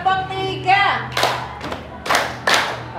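A class of students claps in unison during a rhythm drill. A teacher's voice speaks first, then several loud, slightly ragged group claps follow at an uneven pace.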